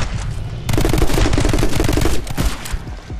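Rapid automatic gunfire in the stylized shooter My Friend Pedro, a loud, steady stream of close shots that rattle on for about two seconds before easing off, with no talking over it.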